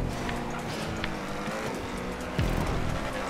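A new car's engine in the racing game GTA runs steadily and loudly throughout, with a broadband rumble and a brief sharper swell near the end, like revving or a passing vehicle.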